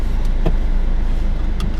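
A 2018 Audi TT drives along a road, its steady engine and tyre roar filling the scene with a continuous low rumble and a couple of brief passing swells.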